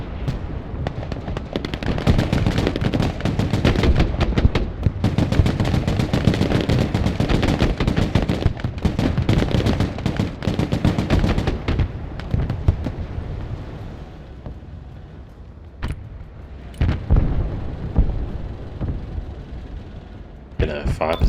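Gunfire in the real-time strategy game Broken Arrow, with Marines and Airborne units fighting at Cold Harbour: dense, rapid bursts of shots and blasts for about twelve seconds, then scattered single shots, with a voice talking over it.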